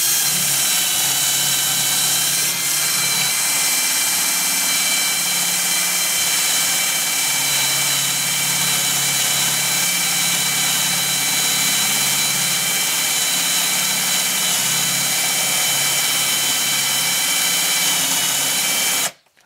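Power drill boring into wood with a 20 mm Parkside Forstner bit, a loud, steady high-pitched whine with grinding texture that holds for nearly 20 seconds and then stops sharply.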